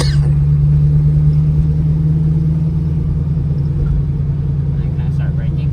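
Engine of a manual car pulling in fourth gear, a loud steady low drone with a strong hum, continuous through the clip.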